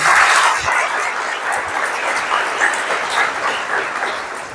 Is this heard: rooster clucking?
no